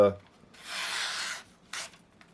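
A knife blade drawn across a homemade leather strop loaded with 3000 and 6000 grit compound, giving one long soft rubbing stroke and then a shorter second stroke. The strokes are quiet and close, with no talk.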